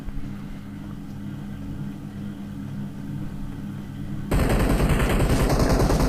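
Rapid gunfire erupts in a battle royale video game after a steady low engine-like drone, the shots arriving as a dense, loud burst of cracks in the last seconds.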